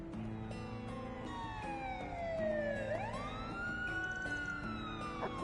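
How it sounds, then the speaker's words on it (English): A wailing police siren in the video game Trails Through Daybreak II sweeps down and back up in pitch, loud and steady over a low background hum. "A police siren?"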